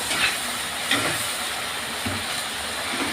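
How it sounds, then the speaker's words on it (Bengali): Water splashed into a hot pan of frying spices for a Bengali fish curry sets off a steady, loud sizzling hiss that holds throughout, with a few brief sharper crackles on top. "এবারে জলটা দিয়ে দিই অল্প জল দেবো খুব একটা জল দেবো না"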